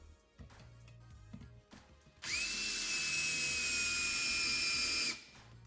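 After some quiet handling noises, a power drill with a larger bit bores into an old wheel to cut a new bolt pattern, a loud, steady high-pitched whine lasting about three seconds before stopping abruptly.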